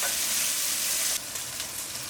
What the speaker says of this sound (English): sear it really well till it has a lovely caramelized color